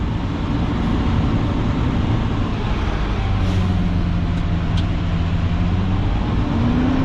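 A loaded dump truck rumbles loud and close with a steady engine drone as it unloads and the dumping load shoves it forward, with a brief air-brake hiss.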